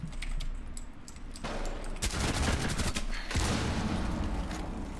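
Gunfire in the video game Rainbow Six Siege: rapid bursts of shots crackle in clusters, with sharper, louder volleys kicking in partway through, fairly close and dense.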